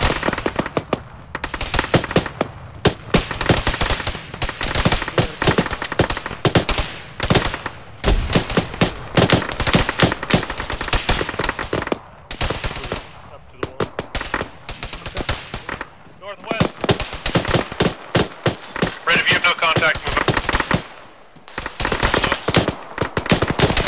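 Gunfire in the military shooter Arma 3, near and far: heavy, rapid bursts of automatic weapons and single shots crackling almost nonstop, with brief lulls between volleys.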